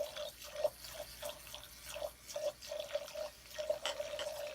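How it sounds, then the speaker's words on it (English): A makeup brush is dipped and swirled in water with brush cleaner, producing soft repeated watery drips and sloshing splashes at a steady rhythm, close and fairly quiet. "So you put the brush down in the water."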